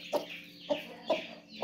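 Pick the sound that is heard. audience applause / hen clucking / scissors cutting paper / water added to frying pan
hen clucking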